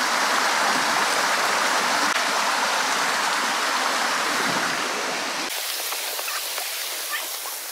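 A river rushes beside a lakeside shelter, a dense steady roar of flowing water close by that cuts abruptly to a thinner, quieter wash near the end.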